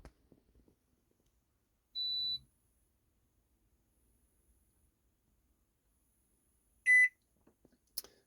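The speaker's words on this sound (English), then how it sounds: "if you give it a minute, the microwave will pop on." A microwave oven coming to life once its 240-volt supply is switched on: one short, clean high beep, then after a quiet pause a louder, harsher buzzy beep, followed by a few faint clicks in an otherwise silent room.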